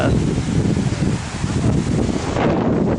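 Strong wind buffets the microphone by the waters of Escanaba, a loud, continuous roar and rumble that fills the whole moment and drowns out anything else.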